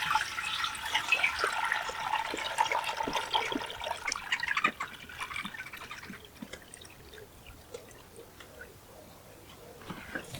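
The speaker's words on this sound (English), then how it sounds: "I'm going to add 10 liters of water for that." Water from a tap gushes and splashes into a large metal pot, a steady rushing pour that slowly eases and thins toward a quieter trickle, close by with no speech.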